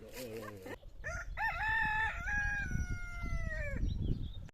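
A rooster crows loudly and close by in one long, drawn-out call, followed by hens clucking and other barnyard fowl sounds around a parked camper van in the countryside.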